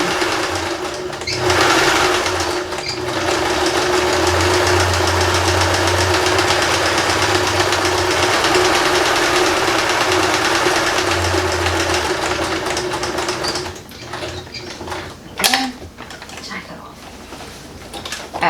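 Domestic sewing machine stitching through recycled denim jeans, a steady continuous mechanical whir running for most of the clip before slowing and stopping near the end, with a brief clack afterward.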